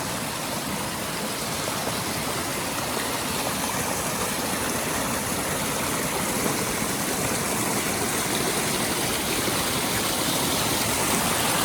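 A mountain creek on the Timberline Loop of the Pacific Crest Trail in the Mount Hood Wilderness rushes in a dense, steady broadband hiss. The sound is close and unbroken throughout, with no voices.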